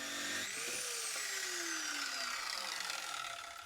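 A chop saw cuts through threaded rod, a loud continuous grinding whine with a pitch that glides downward as the blade bites into the metal, running steadily to the end.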